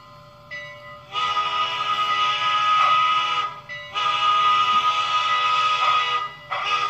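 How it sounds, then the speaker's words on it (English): An MTH K4 Pacific model steam locomotive with TCS WowSound pulls a freight train with a steady mechanical hum and whine, its tone rising and falling as it passes, with brief dips between stretches. "why don't we see this thing run with a freight train?"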